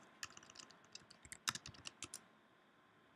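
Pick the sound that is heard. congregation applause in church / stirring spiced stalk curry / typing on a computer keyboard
typing on a computer keyboard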